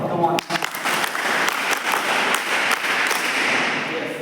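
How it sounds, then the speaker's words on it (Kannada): Audience at a college NSS annual camp breaking into sustained applause, dense clapping from many hands filling the space evenly, with a few sharper claps standing out near the start. "ಒಂದು ಮನದಾಳದ ಚಪ್ಪಾಳೆ"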